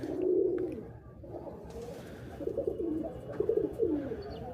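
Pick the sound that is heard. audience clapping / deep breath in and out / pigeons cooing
pigeons cooing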